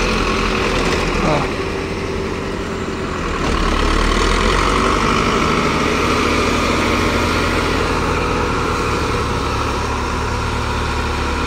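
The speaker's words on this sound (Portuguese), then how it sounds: "O trator Massey Ferguson." A Massey Ferguson tractor idles steadily nearby on a farm during sorghum cutting, a constant engine drone throughout with a brief shift in tone early on.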